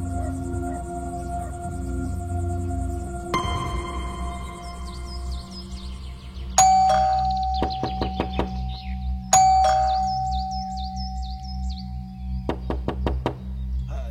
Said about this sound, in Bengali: দরজা ধাক্কা, কলিং বেল, সব রকম মিলিত চেষ্টায় আমার ঘুমটা ভাঙিয়ে দিয়েছে